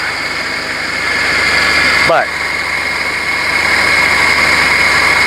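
A Mercedes 190E engine idles on a cold morning during cooling-system troubleshooting, a loud, steady, close-up drone with a brief clunk partway through, while someone talks over it.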